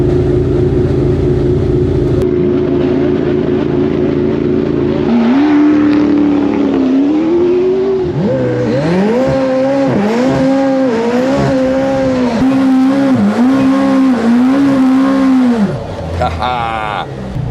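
A McLaren Senna launches up the Goodwood hill climb, its loud engine roaring and rising in pitch through repeated gear changes, heard from inside the car with occupants talking over it.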